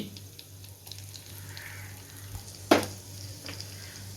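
Ginger sizzling in leftover oil from fried chicken, a steady low crackle with a sharper burst of sizzle midway, no talking.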